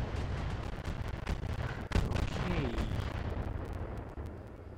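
An AC-20 autocannon on a mech in the Battletech game fires amid a rumbling battle, with heavy booming shots and bursts, one sharp blast standing out over a dense, noisy low roar.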